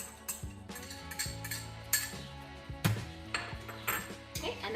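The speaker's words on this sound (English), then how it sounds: "stir the mixture" Gluten-free banana muffin batter is stirred in a bowl with soft clinks and taps of a utensil against the rim, fairly quiet and irregular, with a faint steady background hum.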